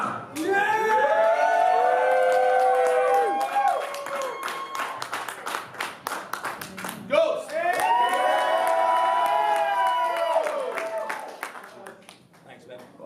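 Audience clapping, cheering and whooping at a Mass Warfare Battle League rap battle, loud crowd noise mixed with an announcer's amplified voice speaking over it, swelling twice and fading toward the end.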